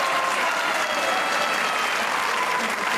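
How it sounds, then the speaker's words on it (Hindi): Studio audience applause on a comedy talk show, dense and sustained clapping at steady volume throughout without a break. "बगैर समझे तालियां नहीं बजाओ"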